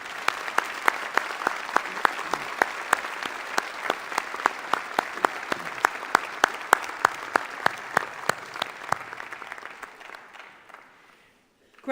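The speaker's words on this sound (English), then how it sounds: "I'd like you to join me and the platform party in a round of applause" Audience at a graduation ceremony breaks into sustained applause, many hands clapping steadily for around ten seconds before the sound thins out and fades away near the end.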